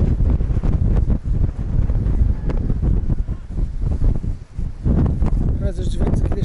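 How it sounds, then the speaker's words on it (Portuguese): Loud gusting wind roars across the microphone on a coastal footpath beside the sea in the Azores, a heavy rumbling rush with brief lulls, and voices speak over it. "Está aqui bastante vento."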